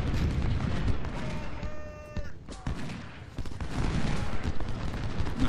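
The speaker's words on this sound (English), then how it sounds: "Start shelling this guy because he's out in the open." Artillery shelling from the Ultimate General: Civil War game, heard as a dense, continuous barrage of booming and crackling gunfire with no pause, briefly thinning midway before the volley resumes at full strength.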